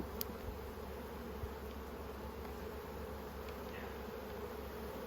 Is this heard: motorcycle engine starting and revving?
no